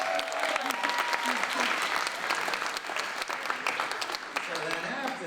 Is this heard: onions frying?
no